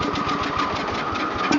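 A Power King garden tractor engine runs steadily up close, a continuous loud mechanical drone with a fast pulsing knock and no talk.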